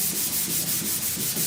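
A sanding block works over primer surfacer on the rusty roof of a 1969 Chevrolet C10 truck, making quick, even back-and-forth rasping strokes, about four or five per second, close up and steady.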